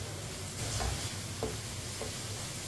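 Spices fry over low heat in a pan, giving a soft, continuous sizzle with a few faint stirring scrapes, close and steady, with no one talking.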